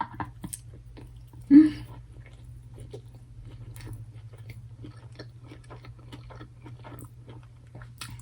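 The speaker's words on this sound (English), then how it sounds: "I love the crunch of the pickled radish." Close, wet chewing of crunchy pickled radish with crisp crunches and one sharp bite near the start, continuing softly against a low steady hum.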